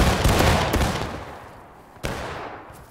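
Musket volleys crack out across a battle reenactment line: a loud, dense burst of gunfire through the first second that trails off, then a second sharp shot near the two-second mark, with no voices.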